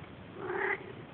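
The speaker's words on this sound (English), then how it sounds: "Meow meow. Meow meow. Meow." A cat lets out a single short, soft meow, faint and close, in an otherwise quiet room with no talking.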